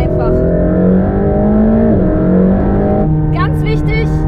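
Mercedes-AMG GT Black Series driven fast into curves on a track: a loud engine note climbs and holds through the gears, drops briefly, then pulls again, with faint tire noise.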